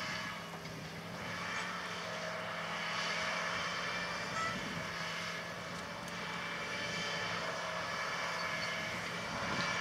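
A John Deere 8295R tractor working sandy ground while pulling a 995 reversible moldboard plow under heavy load, its engine a steady drone, with a faint high tone running through.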